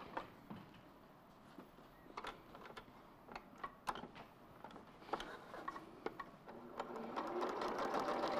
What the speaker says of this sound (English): when you start sewing, your bottom bobbin can get chewed up